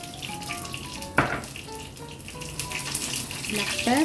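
Water runs from a tap into a cooking pot for Filipino paksiw na isda, a steady close splashing pour with a few clinks of the pot.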